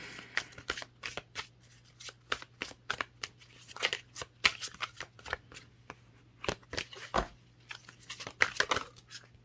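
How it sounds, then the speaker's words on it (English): Tarot cards being shuffled by hand, a close, crisp run of quick riffling and flicking bursts in an uneven rhythm, with no one speaking. "for some reason today the shuffling is just a little bit"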